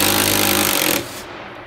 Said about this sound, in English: We use our little impact little driver